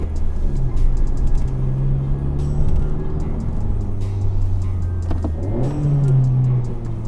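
A Honda Civic Type R driving steadily with a sustained engine drone, the pitch dipping and rising again near the end as it shifts gears, with faint clicks over the road noise.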